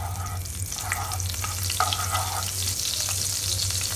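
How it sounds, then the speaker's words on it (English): A dollop of butter melts in hot oil in a pan, crackling and sizzling steadily with scattered pops and spits over a low hum, no talking. "Our oil is nicely heated up, so put 1 dollop of butter or makhan."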